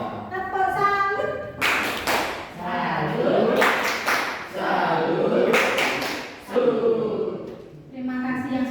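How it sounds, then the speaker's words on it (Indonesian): A group performs a tepuk salut clapping routine at a school culture event, sharp claps in quick rhythmic bursts between stretches of a voice leading and chanting. "Tepuk salut dulu ya."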